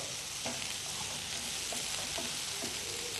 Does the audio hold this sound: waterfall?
no